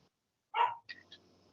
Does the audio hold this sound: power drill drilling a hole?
no